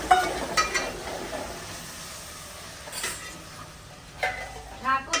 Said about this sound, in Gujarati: બંને બાજુ શાક વઘારવાનું ચાલુ છે.